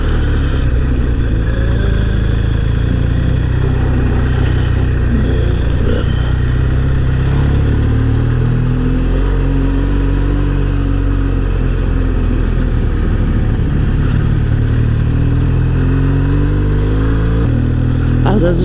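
A fully loaded motorcycle carrying two riders on tight cobblestone curves of an Alpine road: a steady, loud, close engine drone with wind rush that rises and falls slightly through the bends.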